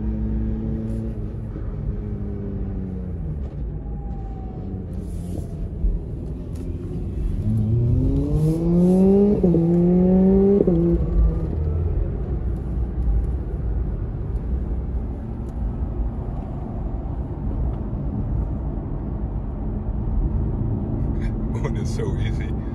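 A BAC Mono racing car's engine droning under steady talk, rising in pitch as it revs for a few seconds before settling back to a lower, ongoing rumble heard from inside or near the car.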